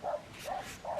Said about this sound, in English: My dog's out there woofing